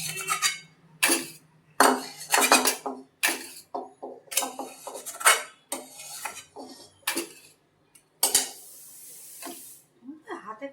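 Curd and mango being mixed and mashed by hand in a bowl: a series of irregular wet squelching and clinking bursts with short pauses between them, close by, with no voice heard.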